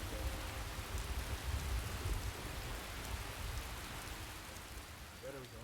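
Heavy rain in Skyrim Special Edition pours as a constant dense hiss with deep rumbling thunder underneath, steady and close throughout, with a faint voice at the very end.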